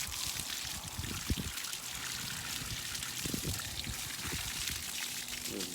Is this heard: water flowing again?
yes